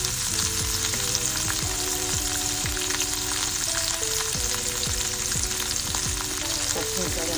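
Ginger, onion and garam masala spices fry for chicken biryani, a steady loud sizzle of hot oil running throughout with occasional stirring scrapes and faint background tones, no voices.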